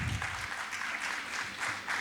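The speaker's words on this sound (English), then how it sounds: "Can we have a huge round of applause for them?" Audience applause fills a business excellence award ceremony as a steady wash of many hands clapping at moderate distance, sustained without pause for about two seconds.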